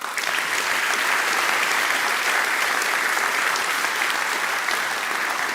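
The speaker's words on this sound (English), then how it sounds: "Give them a round of applause" An audience at a livestreamed opening of the academic year, themed on green growth, gives the keynote speakers a round of applause: loud, sustained, evenly packed clapping from a large crowd that stays at full strength throughout, with no talk on top.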